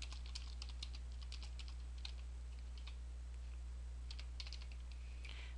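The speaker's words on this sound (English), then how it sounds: "So I'm going to type in some text." Steady clicking of keys on a computer keyboard as text is typed, irregular bursts of keystrokes close to the microphone over a constant low electrical hum, with no talking.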